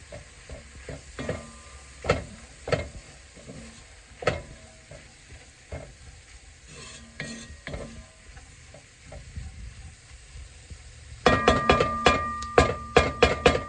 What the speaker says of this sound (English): So let's get our roux going. And I'm going to let this cook, obviously, to get rid of the flour taste.